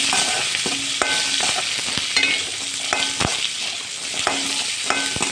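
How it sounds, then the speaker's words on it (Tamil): Onions sautéing in a pan with ginger and fennel seeds for a whole-brinjal coconut milk curry, a steady close sizzle with a spoon repeatedly scraping and tapping the pan in an uneven rhythm. "நல்லா வெங்காயம் நல்லா வதங்கட்டும்"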